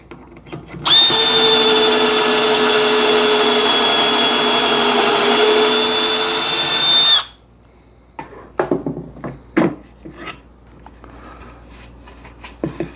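A power drill boring a pocket hole through a jig into wood runs loud and steady for about six seconds and then stops, followed by scattered clatter and handling knocks.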